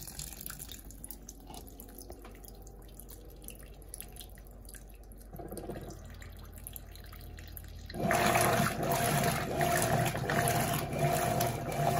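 An Electrolux LT12F turbo top-loading washer with 12 kg capacity runs with water: soft dripping and sloshing at first, then a louder, steady rush of water pouring into the drum from about eight seconds on.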